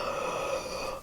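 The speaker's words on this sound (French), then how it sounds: "Donc, on y va, on inspire." A single deep, breathy inhalation taken at the start of a vocal yawning exercise in a singing lesson, close and clear, lasting about a second before fading.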